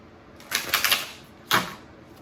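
Two short bursts of papery riffling, oracle cards being shuffled close by, the first longer with several flicks, the second a single quick riffle.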